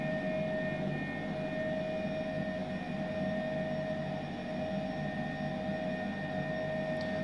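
H135 helicopter lifting off from a helipad in MSFS2020 at Brisbane, a steady turbine whine with a sustained high tone over a broad engine rumble, constant and alone.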